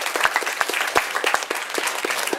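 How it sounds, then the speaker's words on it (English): Applause from a small audience after a Toastmasters club speech, with distinct nearby claps over a denser patter, lasting the whole few seconds. "I think Arjun deserves a round of applause."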